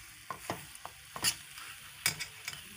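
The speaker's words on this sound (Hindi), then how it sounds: "अभी फ्राई कर रहे हैं, अभी इसमें पानी है" Sparrow brains fry in a pan with water still in it, a soft sizzle broken by several sharp scraping stirs and clinks, close and quiet with no talk.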